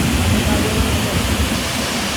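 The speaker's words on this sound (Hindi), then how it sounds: "देखो वाटरफॉल है जो मैंने ऊपर से दिखाया था अभी।" A mountain waterfall on the Madhyamaheshwar temple trek, a loud unbroken roaring rush filling the whole clip, with no voices over it.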